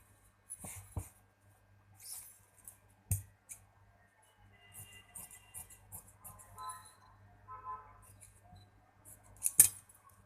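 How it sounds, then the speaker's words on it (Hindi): Scissors snip through fabric while cutting pieces for a pathani Afghani frock, with sparse, close cuts scattered over a faint steady hum. "यहाँ से मैं इसका 1 पीस जो है वो काट लूँगी इस तरह से।"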